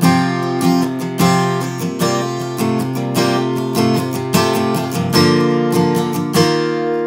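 Strummed acoustic guitar plays the intro to a song, with a steady rhythmic strumming pattern of full ringing chords, close and loud with no voice over it.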